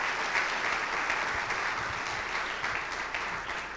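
An audience at a university lecture on banking applauds in a steady, even wash of many hands clapping. It holds at a moderate level for the whole stretch, with no voices over it.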